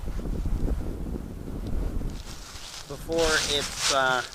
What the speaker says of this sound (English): It's pretty windy here today in western Pennsylvania